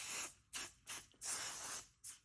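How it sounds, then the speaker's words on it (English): A spray bottle mists fabric during quilting, five quick hissing bursts of uneven length, close and fairly soft, with no speech. "I don't really like to spray so close to my machines"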